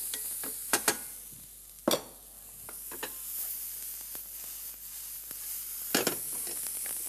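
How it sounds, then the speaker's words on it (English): Onion going into a hot pan with mushrooms, a soft continuous sizzle and hiss broken by a handful of sharp utensil knocks and scrapes, close and fairly quiet with no talking. "Stir it around. Okay, that is getting fairly hot. So in goes onion."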